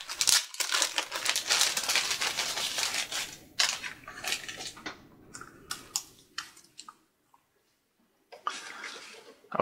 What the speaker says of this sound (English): I'm going to take my new touchpad out of the